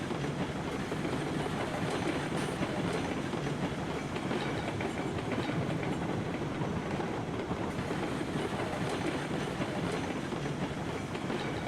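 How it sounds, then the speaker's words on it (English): A train in the Railroads Online video game rolls along the rails with a continuous clickety-clack rumble. It is fairly quiet and steady, and no one talks. "We stopped the train."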